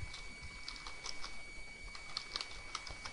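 Fingers typing login credentials on a computer keyboard, a quiet, uneven run of soft key clicks with brief pauses, faint and close with no talking.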